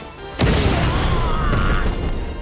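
A heavy explosion booms during a battle in the One Piece Odyssey video game, a sudden loud blast followed by a sustained roaring rumble and faint whistling tones, with no talk over it.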